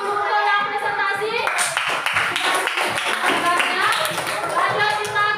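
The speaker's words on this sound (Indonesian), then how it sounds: "Tepuk tangan untuk yang presentasi." A classroom group claps for a presentation during a school lesson, a short burst of many hands tapping at an irregular pace, with voices talking over and around it.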